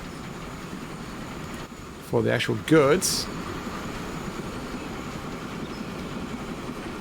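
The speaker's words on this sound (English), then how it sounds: "Is this our new cargo train?" A cargo train runs in the railway video game Transport Fever 2, giving a steady, even rolling rumble throughout while someone speaks briefly over it.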